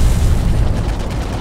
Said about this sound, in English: the plasma fire is getting way too close down on the surface here